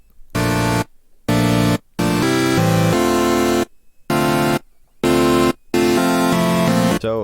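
Bright, buzzy supersaw synth chords from a self-designed preset in FL Studio Mobile, played as a progression of loud sustained stabs separated by short silences, no voices.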